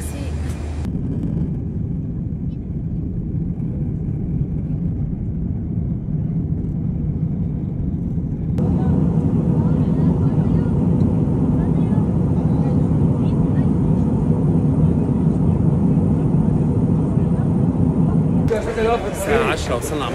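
A steady, loud airplane engine drone fills the cabin on a flight to Cairo, rising to a stronger roar midway and holding constant, with a brief shift at the end.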